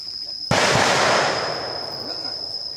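A single loud gunshot-like blast cracks out at the Cu Chi Tunnels in Vietnam, then trails off in a long, fading echo over a steady high background whine.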